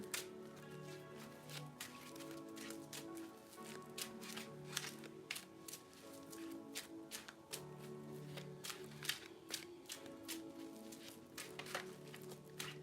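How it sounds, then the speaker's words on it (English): Playing cards being shuffled close up, a run of quick riffling snaps and taps repeating in bursts, faint and set over a low steady background tone. "This is like ASMR, the shuffle."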